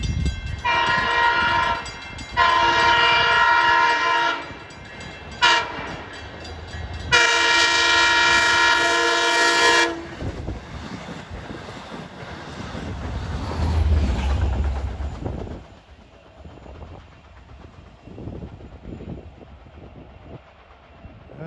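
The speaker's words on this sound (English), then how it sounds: "approaching fast is train 655 en route from Port Jefferson to Jamaica. He runs express from Huntington to Jamaica." A Long Island Rail Road express train from Port Jefferson to Jamaica passes at speed, sounding its horn in long blasts and rumbling loudly by, with wheel clatter fading as it goes.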